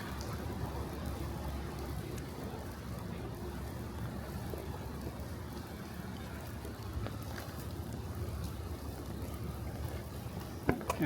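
Steady rain patters continuously at a low, soft level on a Brooklyn street near Brighton Beach and Sheepshead Bay, with faint background rumble and no voices.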